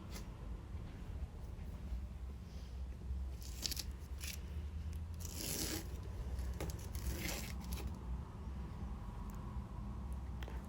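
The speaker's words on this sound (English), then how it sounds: "it's time to pull the tape off" Masking tape peels slowly off watercolour paper, a faint close tearing and scraping with several short crackly bursts over a quiet room hiss, no voices.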